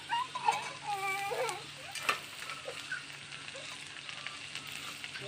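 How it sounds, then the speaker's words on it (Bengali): Capsicum fries in a pan with a continuous soft sizzle, with occasional stirring scrapes and a brief clatter. "ভালো করে ভেজে নেবো এগুলোকে।"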